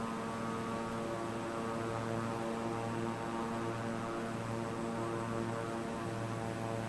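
A propeller airplane engine drones steadily in a flight game, a continuous loud hum with a layered harmonic tone and no break or change in intensity.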